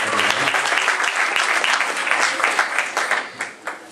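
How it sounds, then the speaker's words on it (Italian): Lively audience applause at an evening comedy show in Camerota, steady and full for several seconds before thinning to a few scattered claps at the end. "Bianca Barone, un applauso."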